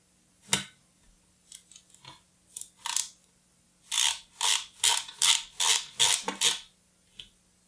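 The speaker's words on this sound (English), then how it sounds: "So we take the PH1 screwdriver," A PH1 screwdriver backing screws out of a laptop, a series of close, short ratcheting clicks in uneven bursts with pauses between, fairly quiet against a silent background.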